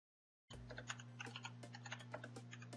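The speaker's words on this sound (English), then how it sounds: "I don't know what you're typing, buddy" Quick irregular keystrokes on a computer keyboard, close and fairly quiet, starting abruptly after silence over a steady low electrical hum, with no speech.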